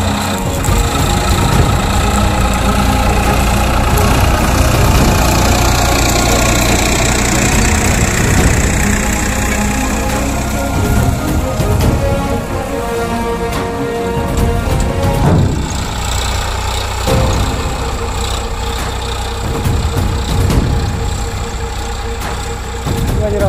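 A tractor engine runs loud and close in a steady, rough idle with knocking pulses, briefly dipping and rising again, with no talk over it.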